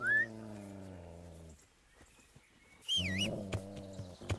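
A dog in the video game Kingdom Come: Deliverance snarls and growls in two loud, harmonically rich bursts, with high whining yelps and scuffling thuds between them.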